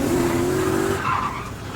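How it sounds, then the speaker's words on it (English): A BMW E28 fitted with a V8 slides sideways while street drifting, its tires letting out a loud, steady squeal that fades as the car keeps sliding off throttle. "The car's sliding, there's no throttle being held."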